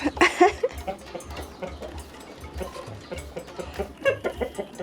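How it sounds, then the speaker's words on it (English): Chickens and roosters cluck and call in a rural Egyptian village, with several birds sounding at once at mid distance in a lively, uneven chorus. "And all the cocks are here. And you can hear them every morning waking up."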